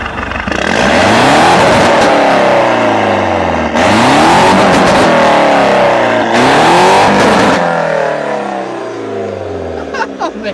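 A car engine revs loudly and pulls away, climbing through the gears in repeated rising sweeps, close and continuous, with faint voices underneath.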